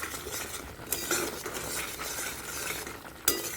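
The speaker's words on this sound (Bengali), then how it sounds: "তাহলে মশলাটা এখন সুন্দরভাবে কষানো হয়ে যাবে।" Masala for rohu fish curry stirred and sautéed in a pan over medium-low heat, with a steady sizzle, utensil scrapes and a few sharp clinks against the pot, close and alone.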